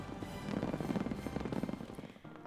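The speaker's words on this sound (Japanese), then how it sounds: "色とりどりの花火が夜空を彩" Fireworks at a peace-declaration festival in Ōta, Tokyo burst over the night sky, a dense rolling rumble of overlapping booms heard from a distance, steady for about two seconds before fading.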